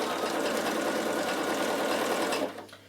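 A sewing machine stitches a row of gathering stitches, running loud and steady at close range for over two seconds before winding down and stopping.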